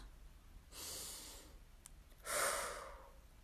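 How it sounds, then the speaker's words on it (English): A slow, deep breath in, a short pause, then a long breath out, close and soft in a quiet room. "take a deep breath"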